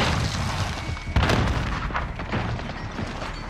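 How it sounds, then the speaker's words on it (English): A grenade blast in Call of Duty: Modern Warfare, a sharp boom breaking through a dense, continuous wash of loud battlefield noise, with further rumbling bursts trailing behind it. "Grenade out."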